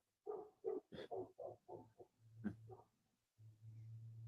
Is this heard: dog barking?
yes